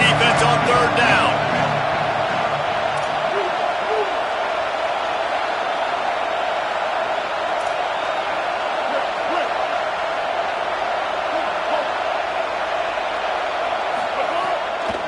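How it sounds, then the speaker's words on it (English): Steady stadium crowd roar from an American football video game on a third-down defensive stand, a loud continuous wash of cheering with faint commentary underneath. "Decibels rising as the crowd gets behind this defense on 3rd down"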